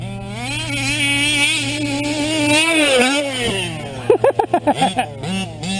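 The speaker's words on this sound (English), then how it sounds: "I got to gas it when I come flying up this hill." A gas-powered TLR 5B RC car with an OBR 34SS reed engine revs in a loud, rising and falling whine, close by, before breaking into a rapid series of choppy throttle blips near the end.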